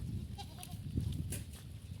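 Goats browsing on vines and leaves after days of heavy rain give a few faint bleats over a low background rumble, somewhat distant and quiet.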